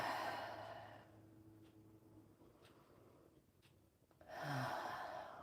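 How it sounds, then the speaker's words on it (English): One deep, slow inhale and exhale in a breathing exercise, close to the microphone, with the breath rising loud, fading into a quiet pause, then swelling again as a second breath, no talking. "Breathe it in."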